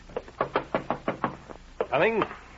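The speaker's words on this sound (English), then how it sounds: "You jump at the sound of a knock on the door." A radio drama sound effect of knocking on a door, about seven firm, evenly spaced raps, followed by a voice calling out in reply.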